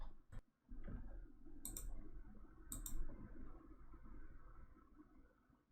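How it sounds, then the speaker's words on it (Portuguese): Two quick pairs of sharp computer mouse clicks sound close and fairly quiet over a low room hum, each pair a fast double-click. "Olha só, eu dei 2 cliques"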